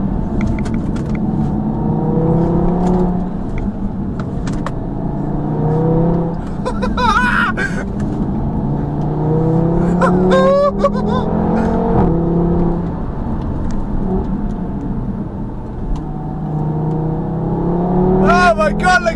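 A 2017 Audi TT RS with a sports exhaust revs and accelerates repeatedly on winding roads, its engine note rising high in pitch, heard from inside the car with a person talking over it.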